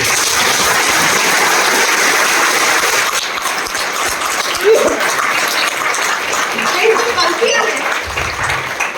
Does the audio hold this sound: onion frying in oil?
no